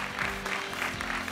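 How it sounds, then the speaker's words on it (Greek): Studio audience applause on a Greek Wheel of Fortune game show, a steady, dense wash of clapping filling the room and holding at an even level throughout. "Με ένα τεράστιο χειροκρότημα"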